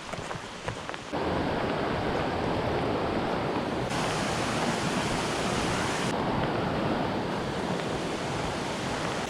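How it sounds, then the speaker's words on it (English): A tiny mountain brook, fished for native brook trout, runs with a steady, close rushing wash of water that holds an even level throughout, with no voices. "I'm on a tiny mountain stream."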